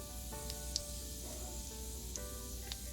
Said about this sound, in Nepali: तेल तातेपछि मैले यसमा पुरा 1/4 चम्चा मेथी यतिको भएपछि मैले पुरा आधा सानो चम्चा जिरा